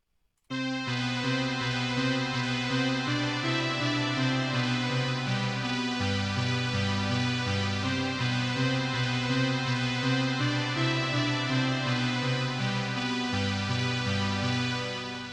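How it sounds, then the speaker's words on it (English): Two large pad synths play together, one pitched high and the other about an octave below, in a remake of a song's chorus. The sustained chords swell in at once, shift steadily and keep a dense, loud wash with no talking. "So those two together would sound like this."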